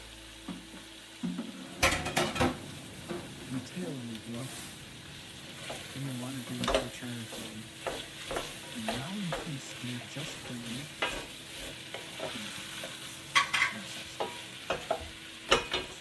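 Garlic frying in a pan for a Mediterranean seafood stew, a soft continuous sizzle broken by repeated scraping stirs and light clinks of a utensil against the pan, close by and fairly quiet.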